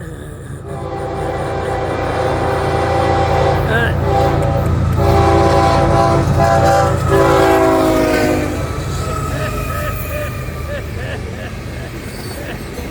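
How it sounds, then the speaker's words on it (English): An Amtrak Auto Train rolls past on the CSX line in Satsuma, Florida, its horn blaring in long blasts over the heavy rumble of passing cars, loud and close, then easing off as the wheels keep clattering. "Amtrak Auto Train on CSX right here in Satsuma, Florida"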